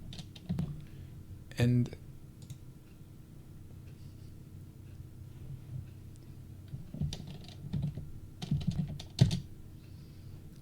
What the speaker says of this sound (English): let me type in the line command